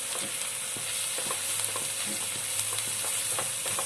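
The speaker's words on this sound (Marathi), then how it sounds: "2 चमचे बेसन घेतलेले आहे मी ते टाकायचं आहे आणि याला छान भाजून घ्यायचं आहे" Gram flour roasting with onions in a pan gives a soft, continuous sizzle, with light stirring taps and scrapes scattered throughout, heard up close and without speech.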